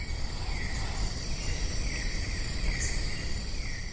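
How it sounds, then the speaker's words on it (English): A dense, continuous insect drone fills the air, pulsing slowly in a steady rhythm, with no voices present. "some kind of rhythm the cicadas were doing"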